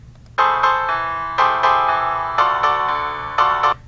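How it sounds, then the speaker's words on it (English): A bright synthesized piano-like phrase plays repeated chords in short bursts, clear and close, with a faint low hum underneath. "Now I'm going to pick a piano part that sounds different."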